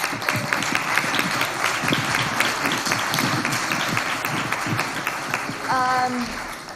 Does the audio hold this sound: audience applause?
yes